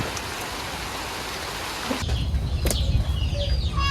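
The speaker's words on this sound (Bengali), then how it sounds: "দেখেন একটুখানি বৃষ্টি নামছে মনে হয় দুই মিনিটের মতো" Light rain falls in a village setting, a steady close hiss that thins out halfway through, followed by nearby chickens clucking and flapping their wings.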